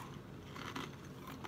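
Small, crunchy, salty snack bites are chewed close to the mic, a few quiet crisp crunches with short cracking bursts over a faint background hiss.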